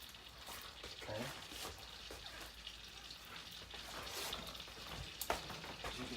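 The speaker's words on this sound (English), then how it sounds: "my butter is starting to sizzle" Butter sizzles in a frying pan while crab cakes are being made, giving a steady close crackling hiss with a few sharper pops throughout.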